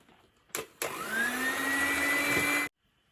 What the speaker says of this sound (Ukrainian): І далі трошечки збиваю міксером, щоб розійшлися усі комочки.